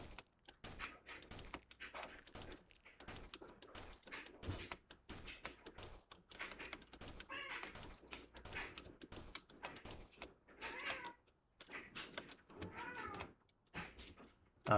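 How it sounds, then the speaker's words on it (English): A pet cat whines and meows repeatedly in the background of a quiet room, faint and intermittent, with a soft voice occasionally present. "I don't know if you can hear my cat in the background there, being all whiny"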